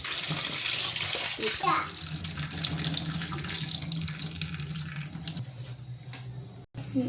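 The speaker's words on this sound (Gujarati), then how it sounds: "એટલા ચોખા આપણે ધોઈ લઈશું" Tap water runs steadily as desi rice is washed in a home kitchen, a continuous close splashing wash that fades near the end, with a voice talking faintly underneath.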